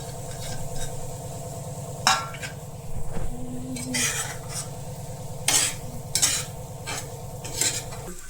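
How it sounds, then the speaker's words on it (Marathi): Egg masala sautéing on a tawa, dhaba-style, with a steady low sizzle under repeated sharp scraping and clinking of a spatula against the metal pan. "आणि चांगलं थोडंसं परतून घेऊ"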